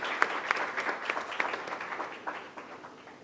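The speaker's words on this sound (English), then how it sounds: "So please join me in giving Mehtaji a big round of applause for his selfless service" An audience at a book launch ceremony gives a round of applause, a moderate, fairly distant wash of clapping with a few sharper individual claps standing out, gradually tapering.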